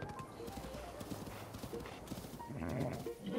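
A white horse in the video game The Legend of Zelda: Breath of the Wild clip-clops along in a steady trotting rhythm, with a brief whinny-like sound and faint background voices.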